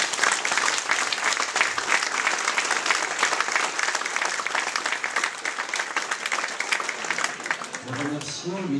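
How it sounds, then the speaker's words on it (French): A ceremony audience applauds director general Alain Frouard at a diploma event, giving dense, steady clapping at full strength throughout, with a voice starting to speak as it fades at the very end. "Monsieur Alain Frouard, que vous pouvez applaudir"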